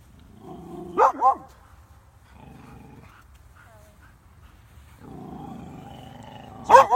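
Dogs let out a few sharp barks and low growls, fairly close, with quieter rumbling stretches in between.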